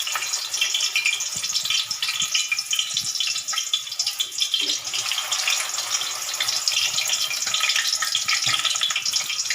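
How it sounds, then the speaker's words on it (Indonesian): Continuous crackling sizzle of Balinese sausages frying in hot oil over low heat, steady and fairly close, with no voices. "Kita goreng seperti ini."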